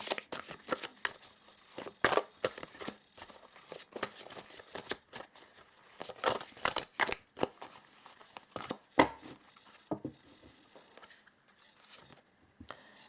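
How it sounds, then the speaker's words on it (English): Oracle cards being shuffled for a tarot and charms reading, heard as soft riffling, flicking and papery patter. The sound comes in uneven bursts close by and stays fairly quiet, with no talking over it. "Let us pull some oracle cards for you guys."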